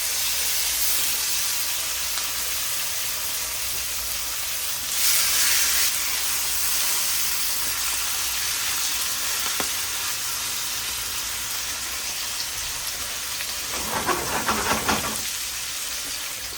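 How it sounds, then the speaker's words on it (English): Ribeye steaks sear in butter in a hot pan over medium-high heat, giving a steady hiss with a couple of louder sputtering bursts, close and alone without talk. "I'm going to put this on a medium high heat so we can get these steaks nice and seared on both sides."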